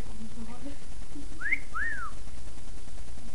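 Two quick swooping whistles, rising then falling, from a person whistling, heard clearly over a constant low background noise with faint murmuring beneath.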